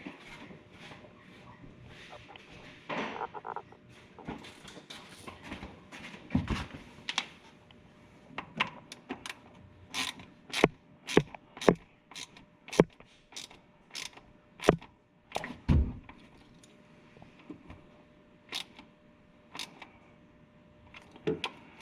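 A ratchet with a 10 mm socket tightens a bolt into a plastic switch on a KRX, making a series of sharp clicks in quick runs. There are short pauses between runs and faint handling noise in the background.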